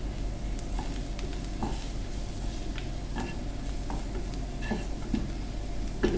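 Okra goes into frying masala for bindi masala and is stirred with a regular scraping rhythm over a low, steady sizzle. The sound is close and moderately quiet, with no voices.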